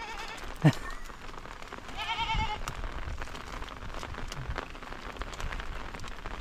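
A couple of short, wavering goat bleats ring out over steady patter resembling rain, the first sharp and near, the second longer.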